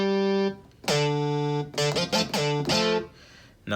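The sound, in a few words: synth bass patch played high octave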